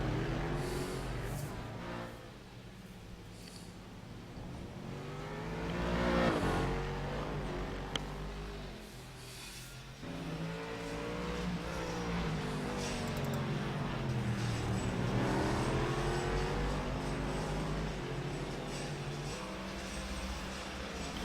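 Race car engine pushed hard on track during a DPSS race; steady, loud revving with rising and falling pitch as the car accelerates and brakes through corners, and no voices.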